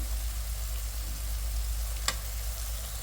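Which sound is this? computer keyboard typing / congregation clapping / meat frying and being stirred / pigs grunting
meat frying and being stirred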